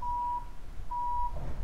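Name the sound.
beeping noise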